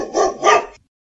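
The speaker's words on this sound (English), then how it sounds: "I hear the dogs say, woof, woof." A dog gives two quick, close barks in a row, then falls silent, with no other sound around them.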